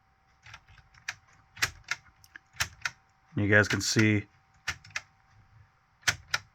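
A Lego Technic Bugatti gear mechanism gives a series of sharp, separate plastic clicks spaced irregularly across the moment, close up, with someone briefly talking in the middle.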